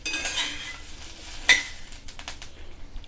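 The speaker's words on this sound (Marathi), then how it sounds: "अशी मिरची चांगली परतून घ्यायची" Chillies are stirred and sautéed in a pan of oil while pickling brine-boiled chillies, with soft scraping and a few light metallic clinks of the spoon against the pan, close and fairly quiet, with no one talking.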